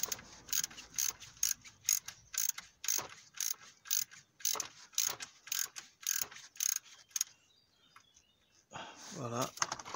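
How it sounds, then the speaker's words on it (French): A ratchet wrench clicks in a steady run of sharp, close strokes while loosening a fitting during an oil and oil-filter change on a BMW 330d E46 with the M57 diesel engine, then stops, followed by a brief metallic clink. "on reprend le cliquet"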